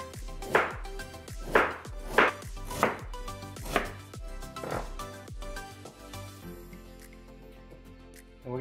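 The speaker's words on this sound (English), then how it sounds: "Now we're gonna slice it up." Peeled fresh ginger sliced into strips with a knife on a cutting board, six or seven crisp, evenly spaced chops close up, then quieter handling sounds.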